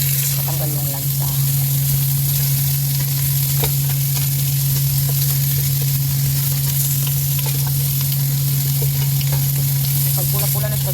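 Meat for kare-kare fries in a pan with a strong, continuous sizzle and occasional stirring, a steady low hum running underneath, heard up close.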